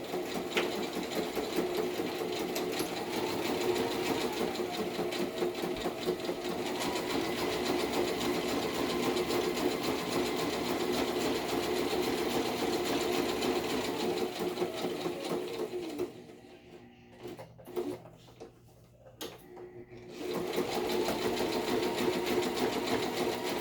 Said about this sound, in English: Now I'm going to zigzag on the bottom,